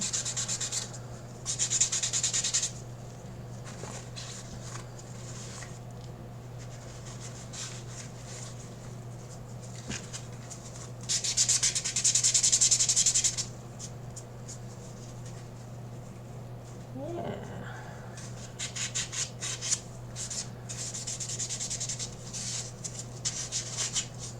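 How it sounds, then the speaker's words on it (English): Soft, close hand sanding of a wooden head cap in irregular rubbing strokes, with bursts of brisker scratching over a low steady hum. "the sanding on the head cap is just about done"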